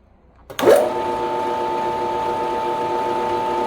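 A woodworking power tool spins up with a bit fitted, whirring into a loud, steady high-speed hum after a sharp start, running continuously and alone.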